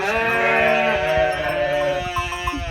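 Newborn lambs and sheep on a village farm bleat loudly and continuously, several voices overlapping close by in a steady chorus.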